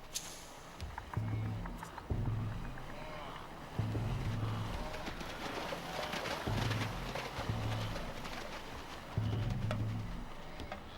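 A wildebeest herd crosses a river in an ongoing splashing, trampling din of hooves and water, with repeated low grunting calls rising in bursts and a voice narrating over it.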